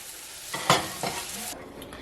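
Beef patties for Salisbury steak frying in a pan, a steady broadband sizzle with a couple of louder bursts near the middle as the meat shifts, then easing to a quieter hiss; no talking.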